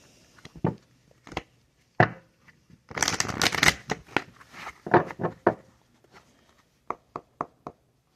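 Oracle cards being shuffled up close: crisp riffling flurries and sharp taps in irregular bursts, with brief pauses between.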